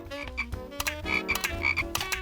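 A cartoon frog queen toy croaks in a run of bright, cartoonish pulses laid over musical tones, close and clear, with no one talking.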